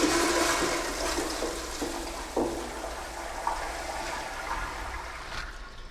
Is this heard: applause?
no